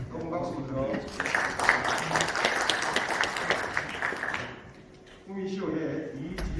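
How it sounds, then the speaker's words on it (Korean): Audience applause at a UAM industry development seminar in a university colloquium hall in Gumi, a dense burst of clapping lasting several seconds with a brief lull before it resumes, under a speaker's voice. "여러분 박수 부탁드립니다."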